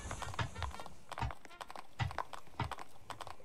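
Horse hooves clip-clop in the video game Blood & Iron, a quick, repeated trotting rhythm heard up close.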